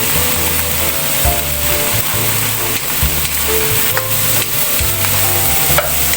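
Beans stir-frying in a pan for pancit give a loud, steady sizzle, with repeated scraping strokes of a spatula in a rhythmic pattern throughout.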